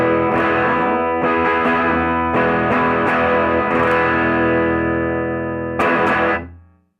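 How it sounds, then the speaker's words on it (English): A stock 1967 Gibson ES-330 with P90 pickups, volume and tone full up, played through a 1963 Fender Deluxe fitted with a Weber speaker. Struck chords ring out loud and close, then a final chord fades away. "now we have 1967 ES330, all stock, P90 pickups, volume and tone on 10."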